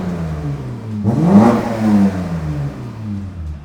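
A small engine in a teenager's project car with an open diff revs up sharply once and falls back, a single close, loud rise and fall lasting a couple of seconds.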